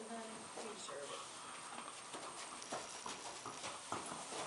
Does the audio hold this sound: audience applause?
no